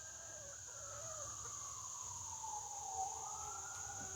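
Chickens in a backyard coop call faintly from a distance with drawn-out, wavering cries under a steady high whine and low outdoor hum.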